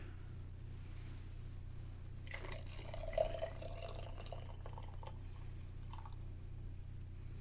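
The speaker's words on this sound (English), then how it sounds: "So I'm going to add 2 cups of hot water to my jar." Hot water poured from a kettle into a jar, a steady close trickling pour lasting a few seconds over a low constant background hum, tapering off near the end.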